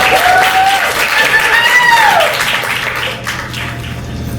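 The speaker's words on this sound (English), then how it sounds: "Please give a huge round of applause for our guest," An audience at a poetry reading applauds a guest, a steady wash of clapping with cheers and voices rising over it, loud and close, then thinning slightly toward the end.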